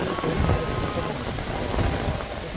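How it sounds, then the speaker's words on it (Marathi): Heavy rain pours steadily onto an open cricket ground, a dense, continuous hiss with low rumbling, close and loud throughout with no talk. "पाऊस खूप पडलाय आणि मैदान मला ओला झालाय."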